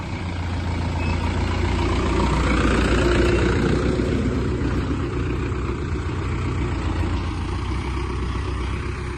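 A new 4x4 tractor's heavy diesel engine idles steadily nearby, a low continuous rumble with a throbbing beat that holds for the whole stretch, with no talking.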